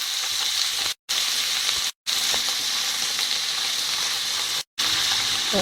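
Capsicums frying in a pan for chilli paneer, a bright continuous sizzle heard up close, cut by three brief moments of silence.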